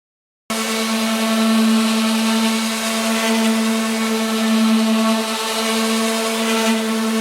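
A power sander runs steadily with 220-grit paper, fine-sanding cabinet shelves for a kitchen: a sudden loud start, then a sustained even motor whine and rough scraping hiss that holds throughout, with no talk.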